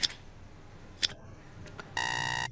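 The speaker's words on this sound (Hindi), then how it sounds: "इसका सही आंसर देने के लिए आपके पास 5 सेकंड का टाइमर है।" Quiz countdown timer ticking through five seconds, sharp ticks about a second apart followed by a loud sustained electronic buzz near the end.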